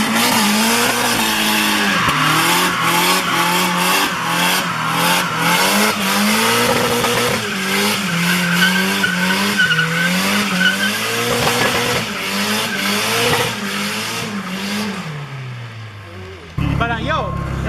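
A motor-swapped car with a hydraulic handbrake does a long second-gear burnout: the engine roars and revs hard while the tires squeal and skid loudly and continuously, then the noise cuts off near the end, with voices faintly in the background.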